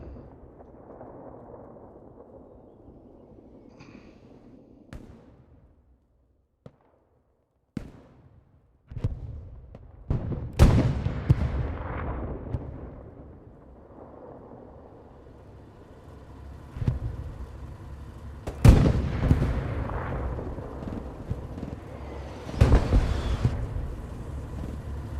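Bombing explosions in the World War II shooter game Hell Let Loose, several heavy booming blasts at irregular intervals, some sharp and close, with rumbling decays between them and no talk.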